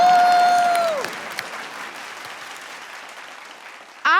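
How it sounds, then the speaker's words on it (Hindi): A studio audience on a comedy game show applauds, a dense burst of clapping that swells at first and then thins to a lighter patter, with a short loud return of clapping at the end. "एक बार हमारे झिंगुर दादा के लिए जोरदार तालियां"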